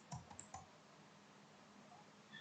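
A few quick keystrokes clatter on a computer keyboard up close, a short burst of clicks followed by near silence and a faint tap or two.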